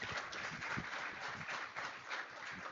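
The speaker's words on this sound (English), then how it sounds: "Give her a big round of applause." Audience at a startup summit clapping, steady dense applause of many hands, moderately distant and even throughout.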